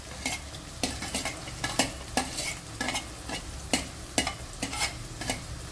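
Carrot, beans and capsicum stir-fry for egg noodles, a continuous sizzle broken by regular, sharp scraping strokes of a spatula against the pan, close and rhythmic.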